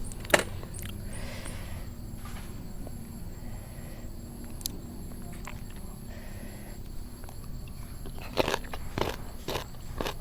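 Crisp snack bitten and chewed close to the mouth, small young green mango eaten with fermented fish chili dip, giving repeated crunching cracks in uneven bursts that turn louder and denser near the end, with no talk.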